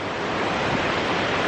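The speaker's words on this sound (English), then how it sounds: "it's windy. It's getting up there." Strong wind roars past the microphone in the Smoky Mountains near Gatlinburg, Tennessee, ahead of heavy rain, a constant loud rushing buffet with no speech over it.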